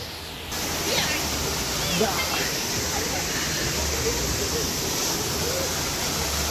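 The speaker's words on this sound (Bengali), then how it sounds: "এই ওপর থেকে ঝর্ণা নামছে" A waterfall pours down rocks at the rock garden in Darjeeling, a loud, continuous broadband rush close by, with faint voices beneath it.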